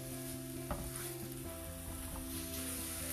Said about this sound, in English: We'll fry them a little bit.